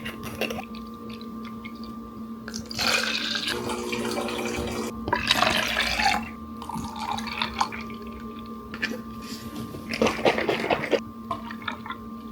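Water poured into a measuring container for a measured mixture, four ounces each, heard as several separate runs of splashing liquid a few seconds long against a quiet background hum, close and moderately loud, with no talk.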